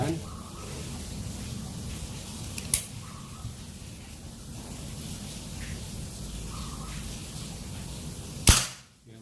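A sharp, snappy shot from a PCP L-38 mini air pistol at 2500 psi cracks near the end after a quieter pop earlier, over a steady low background hum.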